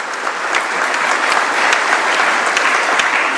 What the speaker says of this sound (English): Keep clapping until she gets here, just to encourage her.